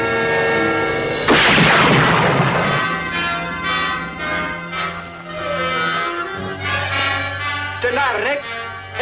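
Tribesmen fire rifles, a loud booming shot followed by a lingering rumble and scattered distant reports, with speech and background music in the scene.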